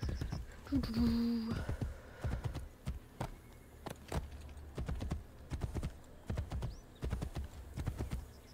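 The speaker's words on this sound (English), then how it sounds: "There's just freestanding horses everywhere." Horse hooves clip-clop in a steady, even walking rhythm on hard ground in the Rome streets of Assassin's Creed: Brotherhood, with a brief whinny near the start and quiet background ambience.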